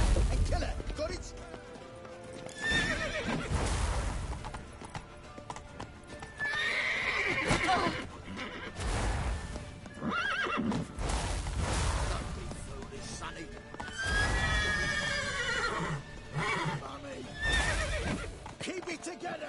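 Horses in The Witcher video game whinny loudly and clip-clop on hooves amid a tense battle scene, with shouting voices over repeated neighs and galloping, near and busy.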